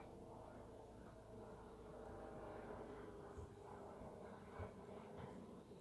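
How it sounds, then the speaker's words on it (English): A plane flies over a house, its steady low engine rumble holding at a moderate level for several seconds with a slight swell in the middle and no voices. "there's an plane flying over my house"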